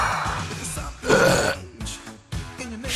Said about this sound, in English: They burp.